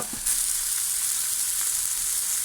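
A beef burger sizzles and spits steadily in a frying pan, with a close, even hiss throughout and no talking.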